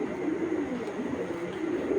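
A pigeon coos in low, soft, rolling calls, close by, repeating over a steady background hum.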